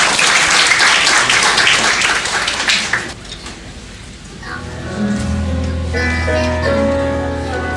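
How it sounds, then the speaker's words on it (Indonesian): Audience applause at an Easter church gathering, loud dense clapping that fades out around three seconds, followed by quieter room sound and music tones. "Sekali lagi berikan tepuk tangan yang paling meriah"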